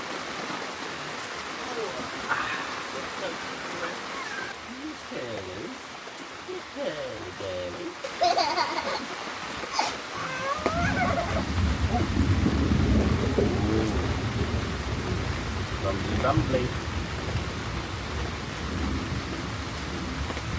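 Rain and thunder over a forest campsite in France, with steady rainfall throughout, a sharp thunder crack near the middle, then heavier rain drumming on a surface in the second half.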